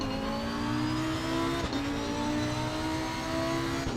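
A high-pitched Lamborghini engine in a racing video game screams at steady high revs, holding a sustained whine with a brief shift midway, loud and close, no talking.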